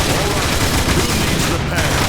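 Dense, rapid gunfire from Decepticon forces in the video game Transformers: War for Cybertron, a continuous loud barrage of overlapping shots.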